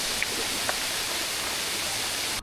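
Lalghat waterfall pouring steadily in light drizzle, a dense even hiss of falling water with a few faint distant chirps or voices early on, constant and fairly close until an abrupt cut at the end.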